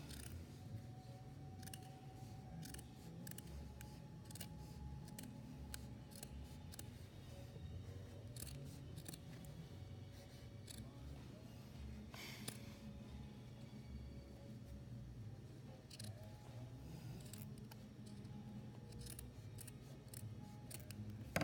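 Scissors trimming fabric around the seam of a sewn Christmas stocking, a long run of repeated soft snipping cuts in a quiet room, close and steady throughout with no talk.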